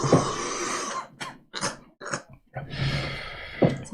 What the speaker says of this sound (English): Sometimes if I blow too hard, it makes me cough.